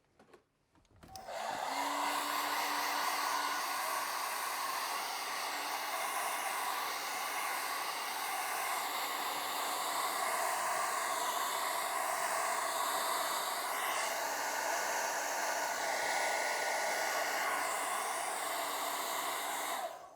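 A hair dryer switches on and blows continuously, drying black gesso on a painting with a steady, loud, close whirring hiss for about twenty seconds.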